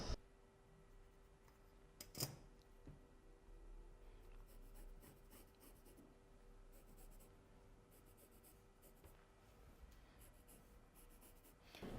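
Pen tip scratching along paper while marking a sewing pattern line, faint quiet strokes in short bursts with small taps and rustles in a still room.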